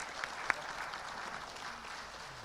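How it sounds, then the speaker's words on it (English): Applause from an audience, fairly faint and steady, with one sharper clap standing out near the start. "please join me in giving the applause to all the"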